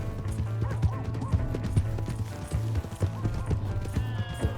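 A horse gallops in Red Dead Redemption II, steady rapid hoofbeats pounding throughout with a low rumbling game soundtrack beneath, close and prominent with no talking.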